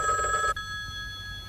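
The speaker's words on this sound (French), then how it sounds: "Téléphone, c'est le docteur Bonduran" Telephone bell ringing in a 1989 French thriller, a bright steady electronic ring that stops abruptly after about half a second, leaving a faint tone and quiet room behind.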